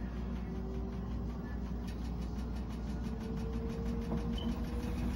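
A Samsung top-load washing machine runs in high-speed spin, a steady mechanical whir and hum with a rapid rhythmic pulsing from the spinning drum, constant and moderately loud throughout without speech.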